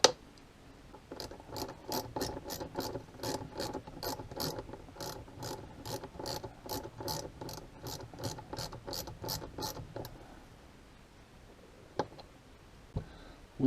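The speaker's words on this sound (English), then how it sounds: "And tighten up the bolt." A socket ratchet tightens the caliper carrier bolt on a Honda VT500 street tracker's brake, with about twenty quick, even clicks at close range, then stopping, followed by a couple of sharp knocks.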